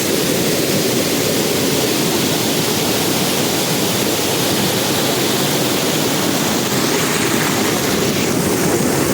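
Rushing water pours down at the Cehennem waterfall in a constant, loud, hissing roar that stays even for the whole stretch, with no other sounds standing out.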